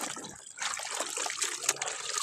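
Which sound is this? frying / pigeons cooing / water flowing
water flowing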